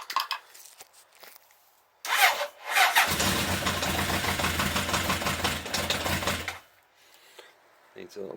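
A Honda CB900 motorcycle engine cranks with a few short bursts, then catches and runs loud and rough for several seconds before shutting off, close by and needing choke.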